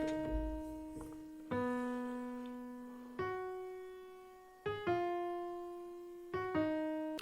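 Dark EDM-style chord progression of sustained synth chords, each struck and slowly decaying, changing every second or two in an even, moody sequence with no beat or voices.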